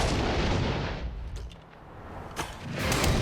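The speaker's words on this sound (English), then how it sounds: "When Adam and Jamie recently took aim at grenades, there was fire in the hole." A grenade detonates in a blast test, giving a loud, sustained rumbling boom that fades and is followed by a short, sharp secondary crack, with no talking.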